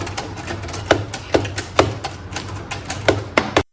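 Keys of a mechanical typewriter at a tea resort in Darjeeling strike in a quick, slightly uneven rhythm of about a dozen sharp, close clacks, ending abruptly.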